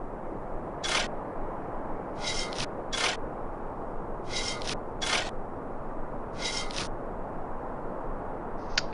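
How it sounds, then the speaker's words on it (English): A stone plate being shifted in The Dig adventure game, heard as several short scraping, grinding bursts in an irregular rhythm over a steady background hiss. "Let's see if this plate can be moved."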